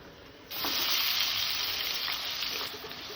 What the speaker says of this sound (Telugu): ఆయిల్ హీట్ ఎక్కింది, ఇంకా ఆనియన్స్ వేసుకుందాం.